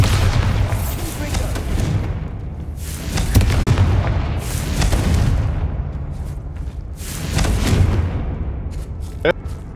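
Bombarda spell explosions in Hogwarts Legacy, several loud booming blasts in bursts with rumbling decay, someone speaking over them between hits.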